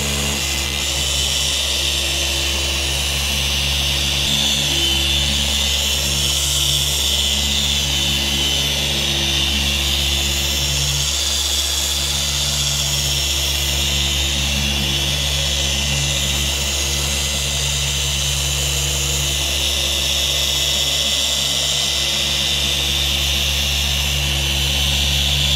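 A dual-action polisher works car paint with a steady, loud motor whine and hum that holds constant for the whole stretch, with no talking over it.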